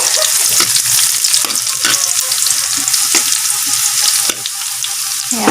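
Garlic sizzles and crackles steadily in hot oil as it fries golden brown for pork adobo in a countryside Philippine kitchen, with occasional stirring scrapes and no talking.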